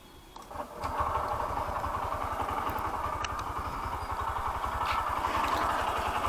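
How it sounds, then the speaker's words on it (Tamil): A Honda SP 125 motorcycle engine fires up and settles into a steady idle, its low exhaust thumps pulsing evenly and close. "ஸோ இது வந்துட்டு இன்ஜின் சவுண்டு."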